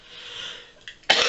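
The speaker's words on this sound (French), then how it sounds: "Vous affolez pas si je tousse hein" A single sharp, close cough bursts out after a stretch of soft hiss and a faint short sound, with no talking around it.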